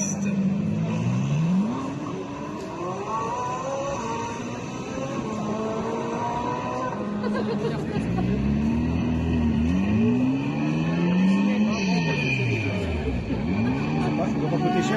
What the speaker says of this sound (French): Et c'est maintenant Luigi qui s'élance sur la piste.